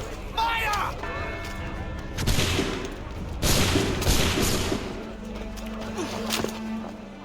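Ragged volleys of musket gunfire burst out in the video game Assassin's Creed 3, loud overlapping shots cracking in waves over several seconds with shouting voices in between.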